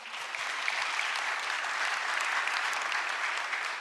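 An audience at a national policy planning committee public briefing applauds steadily, a dense, even wash of clapping heard at moderate loudness for a few seconds without any talk over it.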